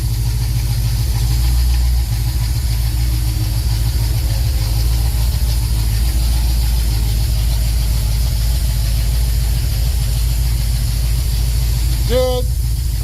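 A 1964 Pontiac LeMans engine idling loudly and steadily up close, a constant low rumble throughout with a short rising whine near the end.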